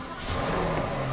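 Rolls-Royce V12 engine running, a smooth low hum that swells slightly as it revs, fairly quiet and steady with a faint airy whoosh over the top.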